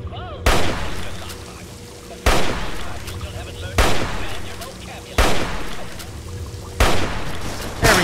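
Gunfire in Fallout 3's Point Lookout DLC: five sharp, loud single shots spaced about a second and a half apart, each followed by a short echoing tail.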